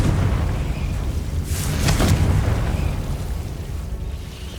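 A Confringo blasting spell explodes in the Hogwarts Legacy video game, a single loud burst peaking about two seconds in over a constant rumbling game soundscape, then fading.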